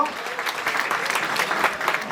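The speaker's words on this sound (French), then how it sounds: "Vous applaudissez très très fort," Loud sustained applause from a crowd at a culinary diplomacy gathering in Paris, dense clapping filling the whole two seconds.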